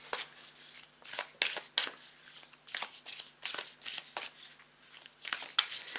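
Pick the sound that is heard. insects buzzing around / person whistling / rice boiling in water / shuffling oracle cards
shuffling oracle cards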